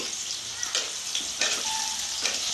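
Malabar spinach frying with salt in a pan, a soft continuous sizzle with light crackles and occasional stirring scrapes, fairly quiet and close.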